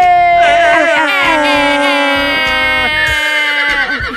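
A horse whinny used as a sound effect, a loud, long, wavering neigh with a falling pitch that runs for several seconds, alone and without talk.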